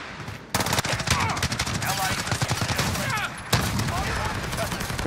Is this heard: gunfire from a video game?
yes